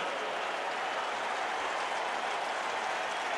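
A fired-up crowd at a 2003 NFL game between the New England Patriots and the Indianapolis Colts cheers in a steady, dense roar that carries on without a break.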